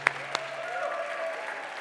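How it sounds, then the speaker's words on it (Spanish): Clapping from a church congregation during a Spanish-language service as visiting pastors are welcomed, a brief steady patter with a couple of sharper claps at the start. "Un fuerte aplauso para ellos."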